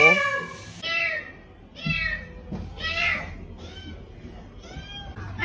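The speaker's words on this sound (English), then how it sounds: "So this shows that cats don't speak meow to anyone but us." A cat meows repeatedly up close, several drawn-out, rising and falling cries spaced a second or so apart, with quiet background noise between them.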